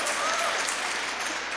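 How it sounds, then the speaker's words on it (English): An audience at a women's event applauds steadily, a dense wash of clapping sustained from start to finish at moderate level. "come on, that deserves applause."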